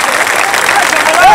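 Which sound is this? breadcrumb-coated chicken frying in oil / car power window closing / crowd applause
crowd applause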